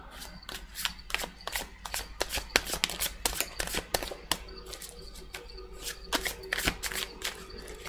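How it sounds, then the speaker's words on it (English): Tarot cards are shuffled repeatedly in quick riffling bursts, sharp and close, with short pauses between shuffles. "let me use more of a shuffle first"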